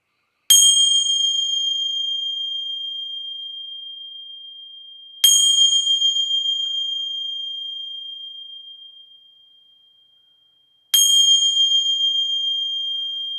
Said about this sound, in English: I'm gonna ring some bells here and see if I see anything that brings a little bit more direction into this one.